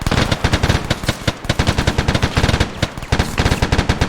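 Rapid machine-gun bursts and rifle shots crackle through an ArmA 3 platoon training assault, loud and close, with brief gaps between volleys and no voices over the firing.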